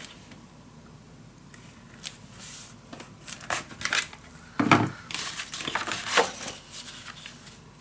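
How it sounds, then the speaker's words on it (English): Scissors snipping out a small yellow paper flower for a mini album craft, heard as a series of close, crisp cuts and paper rustles that pick up in the second half. "I'm going to cut my little yellow flower"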